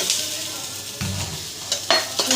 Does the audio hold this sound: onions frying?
yes